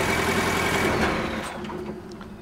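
A Porsche 718 Cayman S engine idles at an elevated, steady pitch, a continuous close hum with a few faint ticks and clicks over the top.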